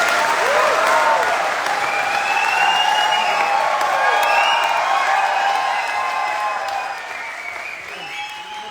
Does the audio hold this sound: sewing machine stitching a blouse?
no